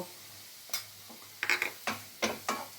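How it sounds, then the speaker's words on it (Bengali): A spoon stirs flour frying over a low flame in a pan with garlic, making quiet, irregular scraping strokes, one early and a cluster of four or five later, with no talk. "এই ময়দাটা একটু, ময়দার গন্ধটা যাতে চলে যায় সেইভাবে একটু নাড়াচাড়া করে ভালো করে ভেজে নিতে হবে"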